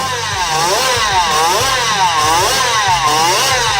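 A small-displacement, liquid-cooled twin-cylinder motorcycle engine screams above 20,000 RPM, loud and close, its pitch rising and falling in quick repeated revving sweeps as the throttle is blipped over and over.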